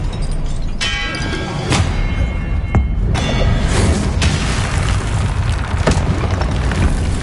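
Expelliarmus spell effects in a Hogwarts video game: a loud, dense magical clash of booms, clangs and ringing hits with sharp bright strikes recurring over a sustained roaring bed.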